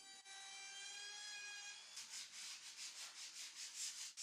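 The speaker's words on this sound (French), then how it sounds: "Un léger ponçage suffit, puis c'est prêt pour l'après et la peinture." Light hand sanding along the edges of MDF furniture before painting, a steady rhythmic rubbing with repeated back-and-forth strokes, close and soft, following a brief high whine at the start.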